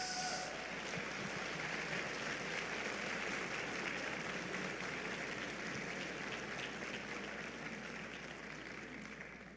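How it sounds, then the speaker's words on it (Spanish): A church congregation breaks into dense, sustained applause that fills the room at an even level and fades slightly toward the end, with no voice heard above it. "Dale un aplauso al Rey de Reyes."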